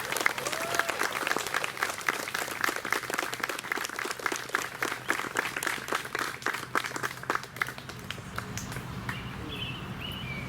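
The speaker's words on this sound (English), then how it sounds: "Let's give a round of applause for this young man." Outdoor audience applause at a Memorial Day ceremony in an old burial ground in Sturbridge: dense, steady clapping from a crowd that gradually thins and fades away over about ten seconds.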